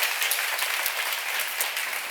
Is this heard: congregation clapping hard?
yes